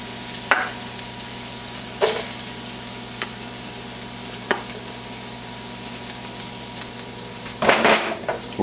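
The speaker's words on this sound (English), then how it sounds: "We're just going to saute these onions till they're sweated and they're a little translucent." Onions sauté in melted butter in a pan, a low, steady sizzle under a constant hum, punctuated every second or two by a brief scrape or knock from stirring, with a burst of clatter near the end.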